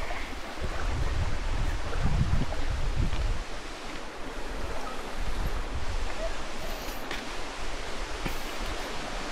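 Taytay Falls on Mount Banahaw in Laguna, a steady broadband roar of falling water mixed with wind rumble on the microphone, constant and close throughout.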